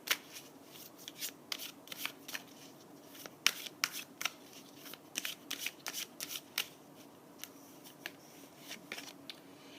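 Tarot cards being shuffled by hand, a quiet series of crisp riffling and flicking bursts at an irregular pace, close and soft, with no talk.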